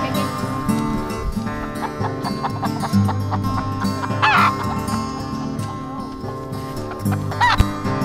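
Chickens in a coop made from a dog kennel cluck and squawk repeatedly at close range over a steady background hum, with no one talking.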